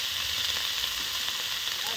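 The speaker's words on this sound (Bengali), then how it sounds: "পেঁয়াজ কলি আর আলু ভাজা হচ্ছে," Spring onion and potato fry in a pan with a dense, continuous close sizzle and no clear breaks.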